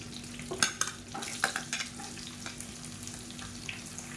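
Green chillies and chopped onion sautéed in a pan for a hotel-style cabbage kootu, soft sizzling under a few sharp scraping stirs of a utensil against the pan, then quieter frying.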